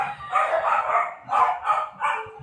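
A neighbour's dog barks repeatedly in short bursts, fairly close and loud, with brief pauses between the rough, yelping calls.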